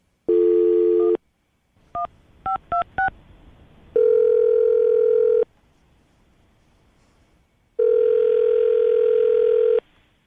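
A telephone handset gives a steady dial tone, then a quick run of touch-tone dialing beeps, then two long loud ringback tones separated by a quiet pause.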